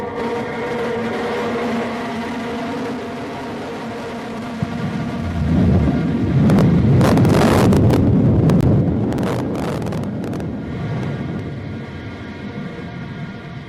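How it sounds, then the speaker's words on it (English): Blue Origin New Shepard NS-29 booster relighting its engine for landing, a rising broadband roar swelling from a low rumble into loud crackling thunder before easing off, heard from a distance with steady wind noise throughout. "there's engine relight"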